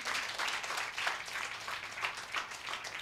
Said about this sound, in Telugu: కొట్టు చప్పట్లు గట్టిగా, ఇంకా గట్టిగా.